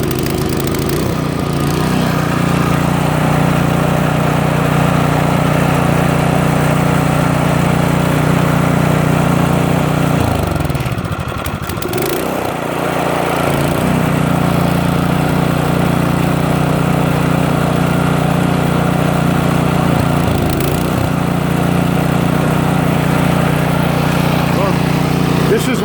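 A Craftsman snowblower engine running steadily at a loud, close, even drone, with a brief dip in the middle as the throttle shifts before it settles back to the same steady tone.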